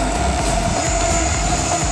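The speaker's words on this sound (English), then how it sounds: "Oh, there's the train." A train rolls past near a house during a landscaping job, a steady loud rumble with faint wheel clatter and a thin high squeal, continuous throughout.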